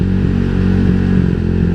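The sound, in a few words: Honda Vario 150 motorcycle engine sputtering, not yet tuned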